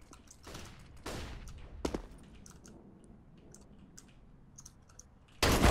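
A Counter-Strike match carries sharp bursts of in-game gunfire and a flashbang grenade, with loud close shots near the start, softer scattered clicks and distant pops through the middle, and a loud blast at the very end.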